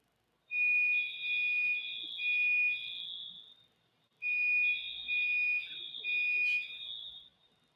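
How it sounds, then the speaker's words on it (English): A building fire alarm sounds loud and piercing, a steady two-tone electronic tone in repeated long pulses, pausing briefly about midway before resuming. "So we got a fire alarm in the building, folks."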